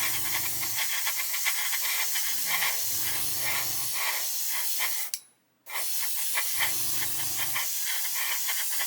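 Aerosol spray can hosing a thick coat of paint onto a scale model, a loud continuous hiss in long bursts with one brief pause, close up with no talk.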